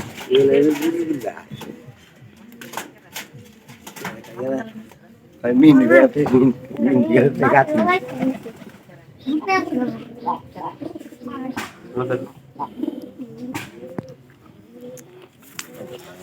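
Crossbred pigeons cooing nearby in low, throaty bursts, mixed with intermittent talking and some clicks and bird noises.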